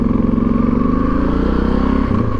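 A Suzuki DR650 motorcycle engine idles and runs steadily close by, its loud, even thumping pulse continuing with no voices.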